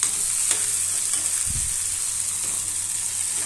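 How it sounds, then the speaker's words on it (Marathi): Tomatoes and peanuts fry together in a pan with a continuous bright sizzle and one brief stirring scrape midway, no voices present. "दोन मिनिट परतून घेणार आहोत"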